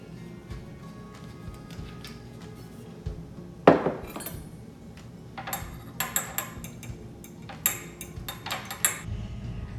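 Chopsticks clink against a small ceramic dish while wasabi is stirred into soy sauce, a sharp knock near four seconds followed by a run of light, close taps and scrapes over a quiet kitchen background.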